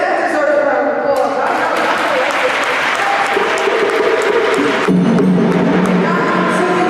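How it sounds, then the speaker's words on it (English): A large audience at a 1 Billion Rising event at Springfield College in Tampa, Florida, applauds loudly and steadily throughout, with dense clapping and some cheering that swells near the end. "yes, that deserves a round of applause"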